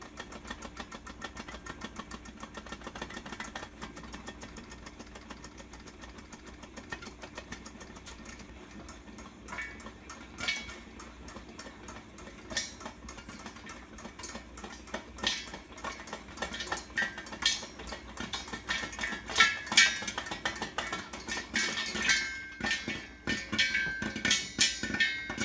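Popcorn kernels popping in hot oil in a stovetop pan: a dense, irregular crackle of sharp pops that grows busier and louder toward the end, with some metallic pan clatter mixed in.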